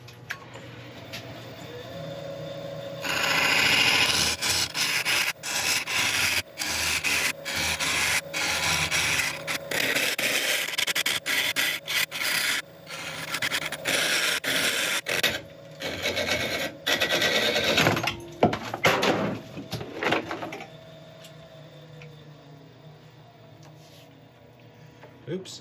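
A woodturning lathe hollows out a wooden vessel, a dense broadband scraping and cutting roar in long bursts with short breaks and a few sharp catches, steady and close, with a voice talking quietly underneath.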